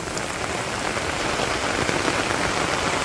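Heavy rain pours steadily over a Bangladeshi village during the rainy season, a dense, continuous hiss of drops striking surfaces close by, unbroken and loud throughout with no voices.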